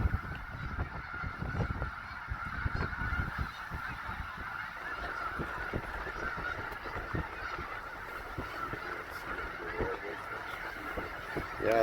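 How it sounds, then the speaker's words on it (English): A large mixed flock of snow geese and Canada geese honks continuously in snowy February, a dense, steady chorus of many overlapping calls with brief faint voices underneath. "Snow geese and Canadians all mixed in there."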